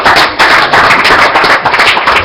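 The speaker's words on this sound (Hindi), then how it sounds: "तो हम एक बार जोर से ताली बजाएं उनके लिए" Audience at a Hindu temple in Canada clapping for a birthday, a loud close burst of dense hand claps running through with no talk.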